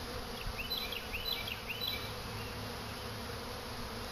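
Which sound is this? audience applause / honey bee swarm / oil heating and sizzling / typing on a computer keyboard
honey bee swarm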